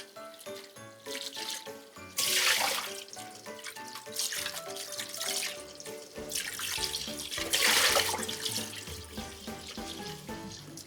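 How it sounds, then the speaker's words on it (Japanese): Cold tap water splashes into a sink over freshly boiled okra, a steady close rush of running water that swells louder in two surges. "お湯を切って急冷ですね。"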